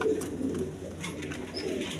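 Yellow Lahori pigeons, a big breeding pair, give soft throaty coos in a low steady murmur, heard from a short distance with no talking over them.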